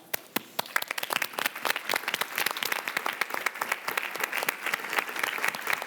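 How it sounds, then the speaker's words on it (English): An audience applauds speakers at the end of a talk, a dense burst of clapping that builds from scattered claps into steady, fairly close applause with no talk over it. "Let's please give them a round of applause."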